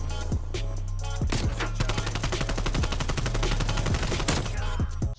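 Gunfire in the video game Call of Duty Cold War rattles off in rapid automatic bursts, with sharp repeated cracks and heavy low booms layered close and loud throughout.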